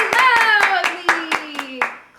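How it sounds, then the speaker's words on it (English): Children clap their hands in a steady, even rhythm, about eight crisp claps over a sung melody, with the clapping loud and close. "Clap, clap, clap your hands together."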